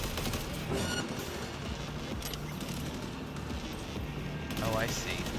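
Sustained gunfire in Cyberpunk 2077 Update 2.0, with dense rapid-fire bursts and booming shots layered over each other. The gunfire fills the whole stretch loudly and continuously, with no pause.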